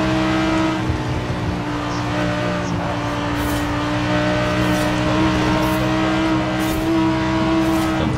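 A 1995 car in the racing game Forza Horizon 4 roars steadily at high speed, its engine note loud and sustained with occasional brief tire or shifting accents, heard alone without talk.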